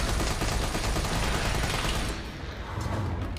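Rapid sustained gunfire in Resident Evil 3 Remake VR, a dense loud fusillade of shots running without a break.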